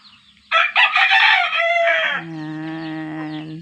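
Chickens kept with ten small baby chicks, a close, loud rooster crow or hen call in a drawn-out squawking burst, followed by a lower steady tonal call.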